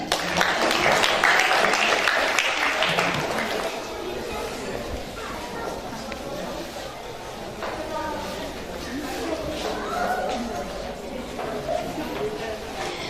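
Applause from an audience at a school performance, a loud burst of many clapping hands at the start that settles into steadier, softer clapping and chatter, with a voice speaking over it.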